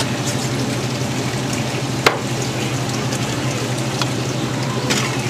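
A chicken pot pie filling with garlic simmers in a pan, giving a steady low bubbling hiss with a faint hum beneath and one brief sharp clink partway through.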